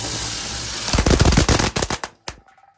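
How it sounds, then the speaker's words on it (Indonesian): Green teratai firecrackers go off inside a jumbo wok, setting off a dense, loud burst of rapid crackling pops that merges into a roaring cluster, then breaks into scattered sharp bangs and a last isolated pop before fading into quiet. "Kita lihat dua mercon teratai di wajan jumbo."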